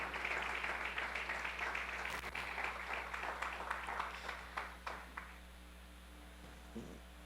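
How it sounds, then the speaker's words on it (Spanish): Church congregation applause, sparse and faint claps rising over a low electrical hum, thinning out into a few scattered claps before fading to near silence. "Démosle un fuerte aplauso a nuestro Señor."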